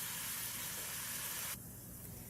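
Onions cooking in a pan for Puerto Rican cubed steak, a brief steady sizzling hiss that drops off sharply near the end.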